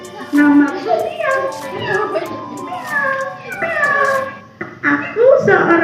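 A storyteller at a preschool teachers' storytelling competition, performed without props, imitates a cat's meow with her voice: several drawn-out, close meows woven between spoken lines.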